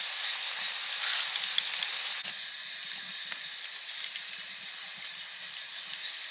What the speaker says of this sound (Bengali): তালের গুলগুলিগুলো ভাজা হচ্ছে